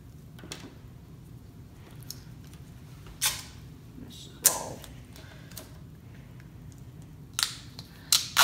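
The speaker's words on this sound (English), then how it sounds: "Grab one more big strip of tape and you're gonna lay it over." Strips of tape are pulled and applied while building a homemade drop system for a Phantom drone: sharp, brief ripping and peeling bursts over a quiet, low room hum.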